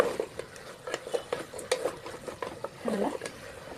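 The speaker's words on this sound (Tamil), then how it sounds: "வதக்கப்போம் வதக்கப்போம் அது வதக்கிறது" Brinjal being sautéed in a pan for tamarind curry, rhythmic scraping and stirring strokes of a utensil against the pan over a faint sizzle, close and fairly quiet.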